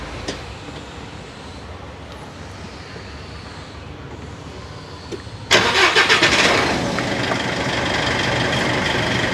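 A diesel van engine cranks and catches after a quiet interior stretch, then settles into a loud, steady idle close by.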